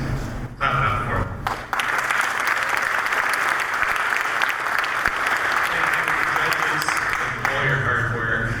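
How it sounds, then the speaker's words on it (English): Applause at an awards ceremony for a hardware design contest, with a crowd clapping loudly and continuously; a voice talks briefly at the start and again near the end. "guys, clap it up for them"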